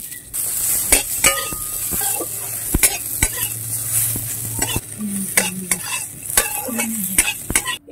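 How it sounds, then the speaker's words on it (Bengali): Cashews and raisins fry in ghee as a spoon stirs them in a pan. A continuous sizzle runs under repeated sharp metallic scrapes and clinks, close and fairly loud, with no voices. "আমি এই কাজুটা একটু ভেজে নেব।"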